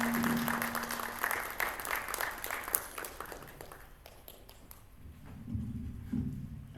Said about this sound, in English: A round of applause for Kadi.